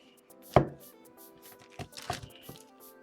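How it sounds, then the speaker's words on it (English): A knife slices through chocolate fudge, cutting it into squares: a sharp thunk at the start, then several softer cuts and scrapes against the board, close and uneven. "we're going to cut our fudge into squares"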